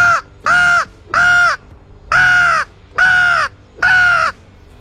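A crow flushed by a gunshot in a crop field caws loudly and close, six harsh calls in a steady rhythm with brief pauses between them.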